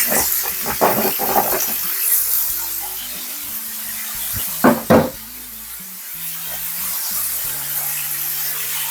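Tilapia fillets sear in a hot pan with a steady broad sizzle, interrupted by a few clattering knocks of utensils against the pan, while soft background music plays underneath.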